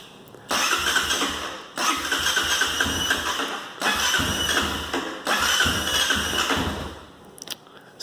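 A 2019 Honda CRF230F dirt bike being started after sitting unused, with several loud cranking attempts in separate bursts that each stop short, then a few faint clicks at the end.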